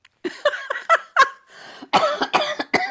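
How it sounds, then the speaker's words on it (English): Several sharp coughs in a row, close and fairly loud, with short pauses between bursts and a heavier cluster toward the end. "Nobody's made me cough at the beginning of a show like you did"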